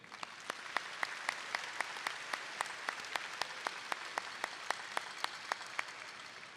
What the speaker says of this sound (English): Let's please give a round of applause to the Midland Valley High School Navy Junior ROTC presenting the colors today.